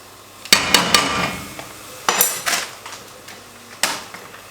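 A utensil scraping and clanking against a pot while milk and flour are stirred together, a few sharp metallic knocks and scrapes spaced apart over quiet background.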